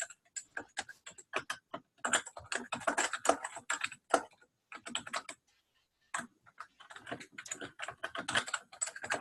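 Rapid, close clicking of keys on a computer keyboard, typed in quick bursts with a couple of brief pauses, no voices.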